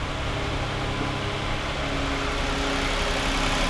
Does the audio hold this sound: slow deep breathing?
no